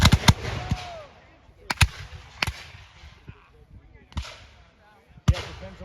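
Civil War reenactors firing muskets at an outdoor event: several sharp, loud bangs spaced a second or so apart, each trailing off, with people talking in between.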